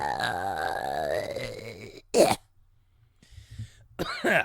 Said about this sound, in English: I made myself cough there